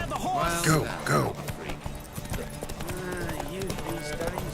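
Horses racing in The Witcher 3 video game, hooves clip-clopping at a gallop under shouted voices, with a brief neigh near the start and steady hoofbeats continuing beneath the talk.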